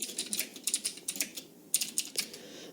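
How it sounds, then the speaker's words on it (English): Quick bursts of typing on a computer keyboard while entering Python code, with crisp clustered keystrokes, a short pause, then another run of taps, close and fairly quiet. "noting that I've just typed a G"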